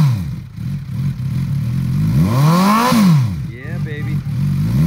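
A used 2008 Suzuki GSX650F inline four-cylinder motorcycle engine revs up and falls back in a smooth rising-and-falling sweep, close and loud, followed by a shorter blip, with a voice speaking briefly over it.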